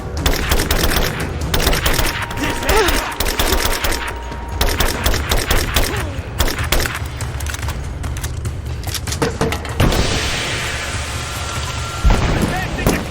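Dense video game gunfire rattles almost continuously, with bursts of automatic fire and explosive booms layered under shouted soldier callouts throughout.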